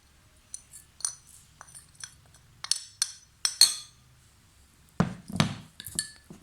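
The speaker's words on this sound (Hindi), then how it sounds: "अच्छी तरह मिक्स करें।" A spoon stirs ground cinnamon into juice in a glass, giving a series of light, close clinks against the glass, spaced unevenly and then quickening into a denser rattle of strokes near the end, with no talk.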